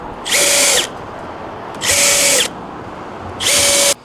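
A power drill drives screws into raked stair framing in three separate bursts, each a loud high whine lasting about half a second, spaced evenly with short quiet gaps between them.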